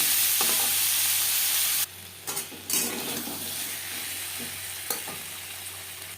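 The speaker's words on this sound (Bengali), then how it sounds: "লবণ হলুদ দিয়ে পটল হালকা করে ভেজে নেব" Pointed gourd pieces fry with salt and turmeric in a pan, a loud, steady sizzle that drops briefly as the pieces are stirred, with a few scraping clatters and no talk.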